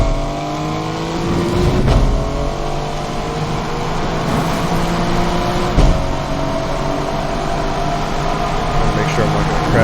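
A car engine in the Need for Speed video game revs and climbs steadily toward redline, the loud note rising through gear changes while someone talks over it.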